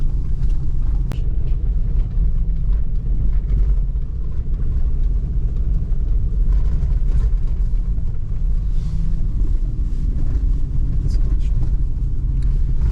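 A car labors up a rough, unpaved hillside toward a remote stone site in Turkey, its engine a steady, loud, close low rumble throughout, with bumps and rattles from the cabin and faint voices underneath.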